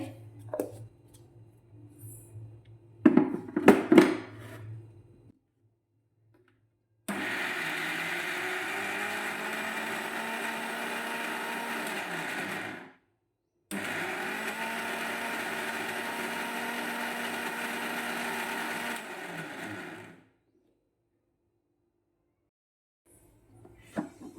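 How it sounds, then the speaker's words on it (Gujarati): A kitchen mixer grinder crushes green pigeon peas (tuver) for paratha filling, running in two loud, steady bursts of about six seconds each, separated by a brief stop, after a few clinks and knocks. "સૌથી પહેલાં આપણે તુવેરના આપણે મિક્સરમાં ક્રશ કરી લેવાની છે"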